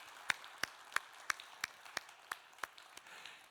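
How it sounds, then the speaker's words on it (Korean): A church congregation claps in unison, faint and distant, in an even beat of about nine sharp claps spaced roughly a third of a second apart, with no speech. "박수 한번 부탁드립니다."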